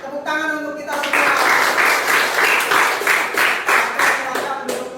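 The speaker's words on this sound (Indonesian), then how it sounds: "Tepuk tangan untuk kita semua." An audience in a classroom bursts into hearty clapping that starts after a brief spoken moment. The applause is dense and sustained for about four seconds, close and loud, then tapers off.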